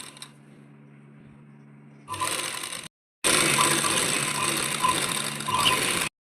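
A sewing machine stitches along the folded edge of fabric while lace is attached to a salwar, a soft whir at first, then loud steady mechanical runs broken by a short pause.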